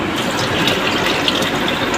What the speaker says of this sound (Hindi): आधा ग्लास पानी डालूँगी